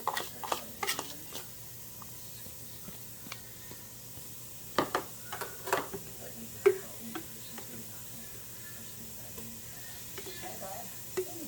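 Onions cook in about two tablespoons of melted butter, making a soft, faint sizzle broken by scattered clicks and taps of a utensil against the pan, with no talking.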